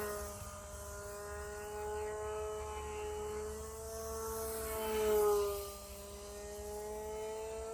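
An electric control-line Ringmaster model airplane circles overhead, its motor giving a thin, steady high-pitched whine that swells and fades gently as it passes, briefly louder around the middle of the lap.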